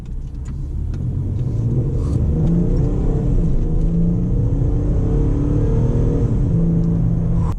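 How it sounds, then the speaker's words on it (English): A car engine revs steadily as gas is applied, a loud continuous low rumble holding even for several seconds with smooth rising and falling tone and no talking. "One second, we're gonna give a little bit of gas right here."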